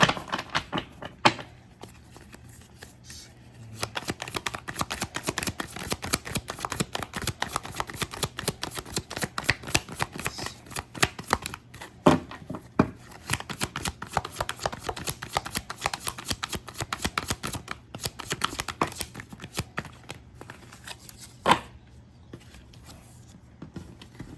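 Tarot cards are shuffled at length in a reading, a dense, fast, close riffling and patting clatter that runs almost without pause, with a few sharper taps, and no voice over it.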